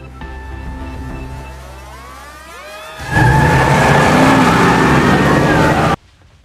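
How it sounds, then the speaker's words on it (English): Car engines rev and roar in a television drama scene, a low idle swelling abruptly into a loud sustained engine roar that cuts off sharply near the end, with music playing underneath. "Engines warm and ready."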